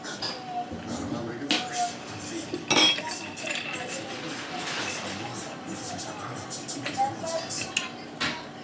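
Waffle batter with ground cinnamon and vanilla extract being stirred in a bowl, steady clinking and scraping of a utensil against the dish throughout, close and busy.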